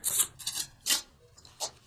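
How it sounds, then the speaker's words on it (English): Soft rasping bursts of tarot cards being shuffled, four or five short riffles spaced irregularly, close and quiet. "Okay, keep shuffling."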